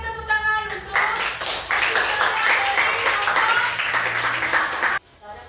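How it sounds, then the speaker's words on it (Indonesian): Audience of a class group presentation breaks into lively applause, dense continuous clapping that swells after a brief voice and cuts off abruptly near the end. "mari kita tepuk tangan untuk"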